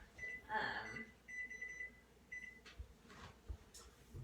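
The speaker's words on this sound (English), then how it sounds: "We'll set the timer here so we don't forget." Kitchen oven timer beeping during protein meal prep, a few short high beeps in a quick cluster then single tones, over faint room noise and thumps.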